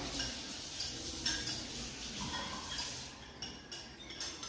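Soap-making mixture stirred in a vessel, with steady scraping and light clinking of a utensil against the container, close and continuous at a moderate level.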